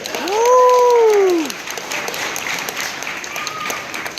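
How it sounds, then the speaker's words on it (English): Wedding reception guests break into applause, with a loud rising whoop near the start over dense, steady clapping that carries on after it. "Can we give them a round of applause?"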